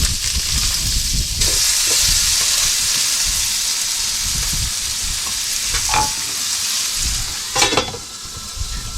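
Steady loud sizzling and hissing from vegetables steaming in a hot pan in a boat cabin, with faint scraping and clinks of stirring, no talking.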